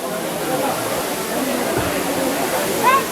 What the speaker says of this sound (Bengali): জল পড়ে এখানে একটা ধোয়ার তৈরি হচ্ছে ওয়ালে বাড়ি খেয়ে